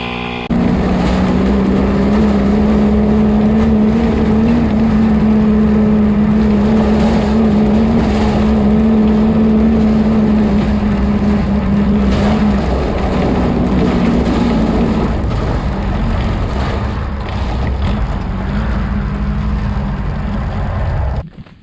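A VW-powered rail buggy engine runs rough and loud at close range, the idle breaking up and stumbling from a suspected fuel problem, with an uneven droning hum that wavers and sags toward the end.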